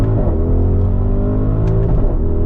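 A 2021 Audi RS Q8 pulls hard in manual shift mode, its engine note a dense, steady cabin-heard growl that climbs in pitch with a brief shift around the two-second mark.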